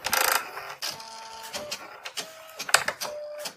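A Canon Typestar 10-II thermal typewriter from the early 1990s powers on with a quick burst of mechanical whirring followed by a series of soft clicks, brief motor buzzes and faint beeps, heard up close in a quiet room.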